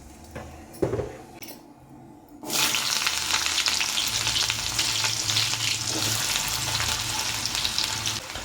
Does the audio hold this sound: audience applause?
no